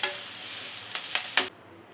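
Drumstick leaves and lentil curry cooking in a pan give off a steady soft sizzle, with a few short scraping stirs near the end before the sound drops away.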